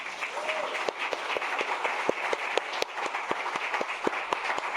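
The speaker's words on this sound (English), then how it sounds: "a round of applause for the team at Fair Share Housing Center and their work" An audience applauds for the team at a housing advocacy event, a brief burst of dense, steady clapping heard close, with some voices mixed in.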